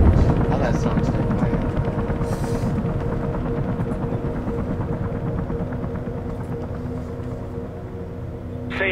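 A helicopter in the video game Mirror's Edge drones loudly with a steady rotor thump and engine rumble, sustained and close, while people talk over it.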